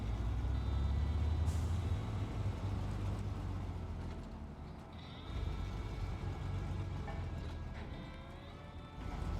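A big truck in the SnowRunner video game drives on with a loud, steady low engine rumble, with a hiss resembling an air brake early on.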